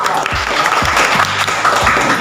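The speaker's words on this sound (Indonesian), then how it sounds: "Bagus, tepuk tangan." Students in an Indonesian school classroom break into a short burst of lively clapping, close and dense, lasting only a couple of seconds.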